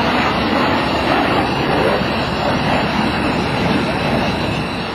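F-22 Raptor jets of the 94th Aero Squadron fly past at an airshow, producing a loud, broad, sustained roar that fades slightly toward the end.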